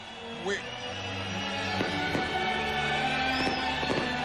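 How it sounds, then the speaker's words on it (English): Fireworks over Manger Square in Bethlehem at the millennium celebration: scattered distant pops and bangs with a faint whistle, heard under a voice over steady crowd noise. "The fireworks have been blasting for over 5 minutes now."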